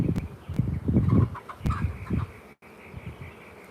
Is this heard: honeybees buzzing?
yes